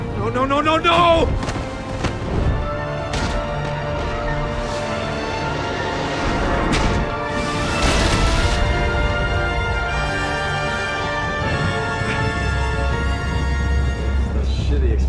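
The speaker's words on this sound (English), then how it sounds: "That shitty explosion, dude. Took out the whole floor" A loud explosion in the Batman: The Enemy Within video game booms and crashes amid game dialogue and a streamer's voice, with rumbling debris continuing after the blast.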